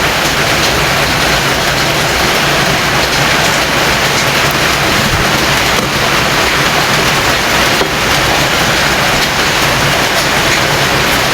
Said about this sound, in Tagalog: Umuulan, biglang umulan.